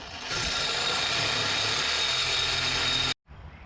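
A power tool trims an exhaust pipe while an X-pipe is built from auto parts store pieces, a loud, steady, piercing cutting whine lasting about three seconds and then stopping abruptly, followed by a brief quieter tail.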